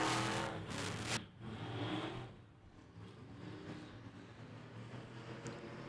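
Factory Stock race cars running heats at Tulsa Speedway, engines roaring loudly at first, then settling into a more distant, steady drone as the field moves down the back stretch.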